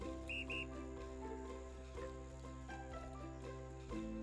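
A short two-note whistle sounds in the video game Everdream Valley, faint and brief over a steady game music backdrop with soft clip-clop and ambient tones.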